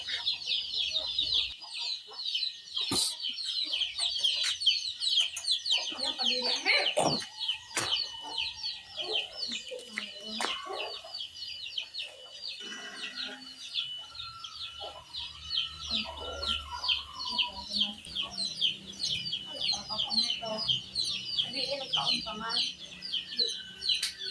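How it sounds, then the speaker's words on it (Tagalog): Chickens cluck intermittently over a steady high chorus of insects or birds in the rural Philippine countryside, with people talking now and then in the background. "yung mga manok ha."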